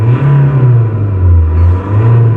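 A 2021 Tata Harrier diesel SUV engine revs up and down at a standstill, about 2000 to 4000 RPM, its low droning note rising and falling twice with a gruff, clattery edge, steady and close.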